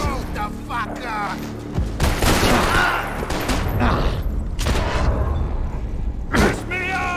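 Gunfire in the video game Max Payne 3 comes as bursts of shots and booms mixed with game dialogue and music, loud and dense across the scene.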